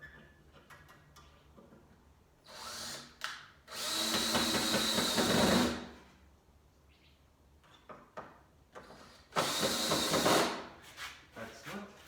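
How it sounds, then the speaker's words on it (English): A power drill driving screws in a garage whirs in two sustained bursts separated by quieter handling noises and faint movement around the work. "let's get my drill and start putting these things in"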